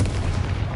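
A Confringo blasting spell from Hogwarts Legacy, heard as a short, dense burst of low rumbling blast energy that fills the whole moment, loud and close with no voice over it.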